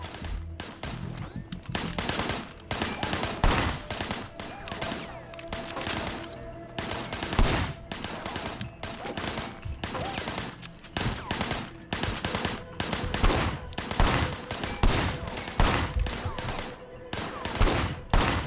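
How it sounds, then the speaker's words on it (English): Gunfire rattles through a Sleeping Dogs video game session as dense, continuous bursts of shots and rapid automatic fire, loud and sustained throughout. "I want you to put some bullets in a few things."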